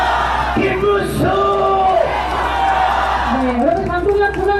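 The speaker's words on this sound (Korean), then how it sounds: "저는 김문수 하면 여러분은 대통령을 외쳐주십시오." Crowd at an outdoor presidential campaign rally in Cheonan chanting in loud, rhythmic unison in answer to a leader's amplified call.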